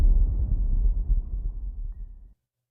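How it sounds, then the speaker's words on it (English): A sub hit sound effect from a music-production library, a deep booming low thud that rumbles and gradually decays for about two seconds before cutting off into silence. "These are similar to booms, not exactly boom, but very similar."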